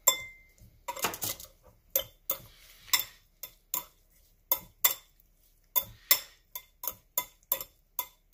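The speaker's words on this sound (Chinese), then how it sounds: "搅拌均匀" A utensil stirring a lobster marinade of lemon juice, salt, white pepper and sugar in a bowl, making a run of close, crisp clinks and ticks in an uneven rhythm, about a dozen strokes with near silence between them.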